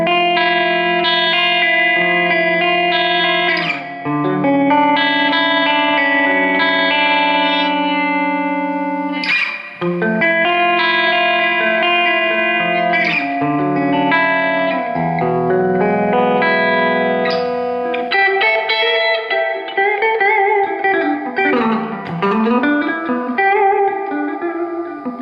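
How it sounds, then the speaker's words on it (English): An electric guitar plays chords and single notes through a Fender Super-Sonic 22 amp with reverb, loud and sustained, with ringing tails that wash into each other and a wavering bend near the end. "We have to try now the reverb because that's well known for that there."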